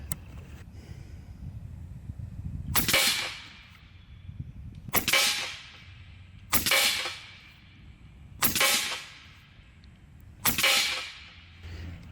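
An Umarex Gauntlet 2 SL30 big-bore side-lever PCP air rifle fires five sharp, loud cracks, each with a short decaying tail, spaced roughly every two seconds over quiet background.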